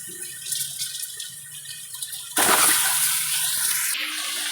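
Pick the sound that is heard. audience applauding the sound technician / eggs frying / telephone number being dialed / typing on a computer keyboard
eggs frying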